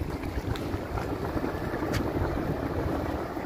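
Wind gusts across the Cebu baywalk by the waterfront, a steady rumbling roar buffeting the microphone, loud and continuous with no voices.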